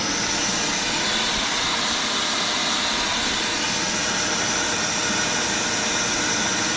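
An air blower pulls dust away from a manual milling machine, giving off a loud, steady, unbroken rushing roar that holds constant throughout.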